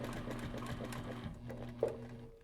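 A sewing machine stitches straight across fabric while piecing a quilted wedge-shaped triangle, running steadily and close for most of the stretch before slowing to a stop.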